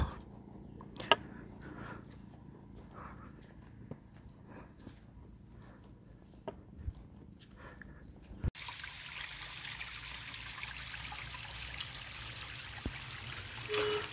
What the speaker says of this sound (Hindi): तो ये जो स्ट्रीम है, नेचुरल स्ट्रीम पानी आ रहा है